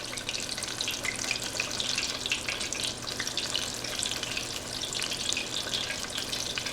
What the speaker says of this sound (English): it's not quite deep frying, but it's deep enough where I don't need to flip them